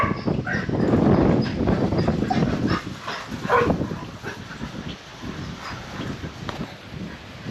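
A big dog named Luna barks excitedly in a rural yard in Islote, Puerto Rico, with a burst of close, loud barks and yips that then trail off into quieter whines.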